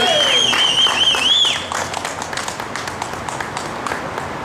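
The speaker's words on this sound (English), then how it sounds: "One more round of applause for Jay Edgar." Clapping and scattered cheering from a crowd at an outdoor political event in Trenton, New Jersey, with a sharp whistle at the start that fades as the applause thins out.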